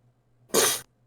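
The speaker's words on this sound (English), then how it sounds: "Oh my god, I can't stop coughing." A single harsh cough bursts out loud and close for about a third of a second during a tabletop Dungeons & Dragons session, with near silence before and after.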